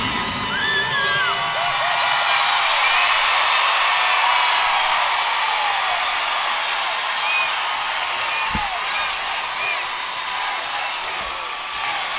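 A large LSU home crowd at a college gymnastics meet in the PMAC in Baton Rouge cheers and whoops continuously, a broad roaring wash with scattered shrill yells and a few claps.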